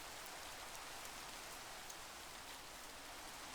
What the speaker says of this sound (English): I hear rain